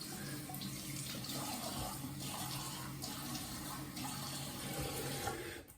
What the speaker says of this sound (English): They're rinsed with warm water and then cold water because it's nice